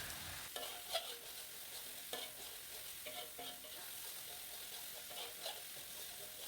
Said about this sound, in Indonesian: saya tambahkan minyak sayur ya teman-teman, dan ditumis sampai bumbunya tanet